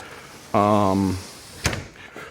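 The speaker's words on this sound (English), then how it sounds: "Make sure this door operates." A door in a newly trimmed house is opened and closed during a post-trim inspection: a drawn-out tonal creak or hum is followed by a sharp latch click, heard up close.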